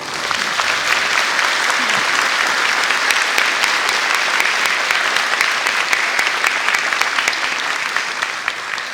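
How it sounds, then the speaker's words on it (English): A school gym crowd at a 6th grade recognition ceremony claps for the 6th grade students, a steady, dense round of applause filling the room for several seconds. "Let's start with a round of applause for our 6th grade students."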